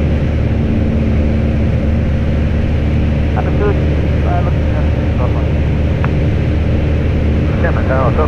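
The propeller engine of a Cessna light aircraft drones steadily and loudly from inside the cabin on short final, with people talking over the intercom above the constant engine noise.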